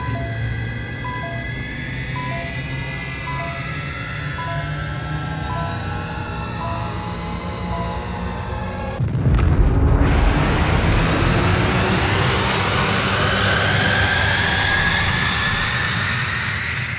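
Rocket engines launching as a vintage vinyl sound effect: electronic tones warble and sweep, then a sudden loud roaring blast takes over and keeps rushing with a rising whine.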